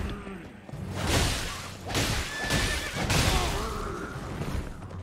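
A horse neighs and whinnies in the video game Elden Ring, with a few loud, drawn-out calls over a busy game soundscape and light swooshing effects.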